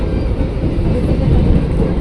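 A commuter train departing Manggarai station in Jakarta rumbles continuously at close range, a low heavy roar of wheels and carriage noise filling the whole moment.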